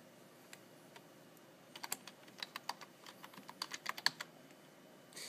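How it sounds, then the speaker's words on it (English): A computer keyboard clacks with a quick, irregular burst of keystrokes as a folder name is typed, heard close with no talking. "You want to type in the name of your picture,"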